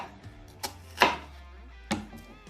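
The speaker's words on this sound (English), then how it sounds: "we start cutting, say the onions are like this. I do small cuts." A knife makes small cuts into an onion on a cutting board: three or four crisp, separate chops at an uneven pace, close and clear, with faint background hum and no talking.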